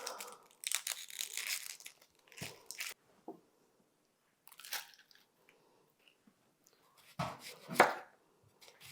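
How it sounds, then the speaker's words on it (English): A knife slices an onion into rings on a cutting board, giving several sharp, crisp chopping strokes in short bursts with quiet gaps between, close and fairly soft. "Now we're going to cut these into circles."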